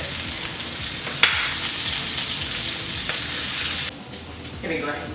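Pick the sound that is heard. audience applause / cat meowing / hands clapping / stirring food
stirring food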